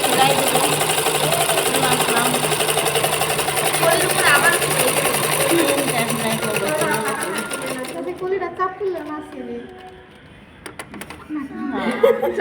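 A sewing machine stitches the side seam of palazzo pants, its needle running in a steady rapid whir for about eight seconds, then stopping and restarting in shorter bursts while a person talks nearby.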